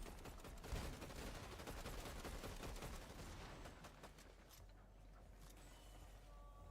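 Faint gunfire in the battle royale game Fortnite crackles in dense rapid volleys, then thins out toward the end into quieter scattered sounds.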